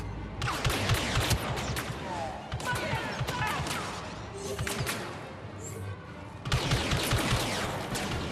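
Rapid bursts of gunfire in Star Wars Battlefront 2, dense volleys of shots with short pauses between bursts, loud and close, with faint talk underneath.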